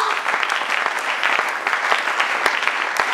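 A church congregation claps in dense, continuous applause, loud and close, with sharp individual claps standing out across the crowd and no speech.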